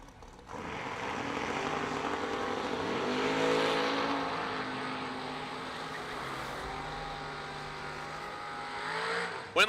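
Third-generation Chevrolet Camaros drag racing, a loud sustained engine roar that swells as the cars launch, with pitch sweeps from gear changes while the noise carries on down the track.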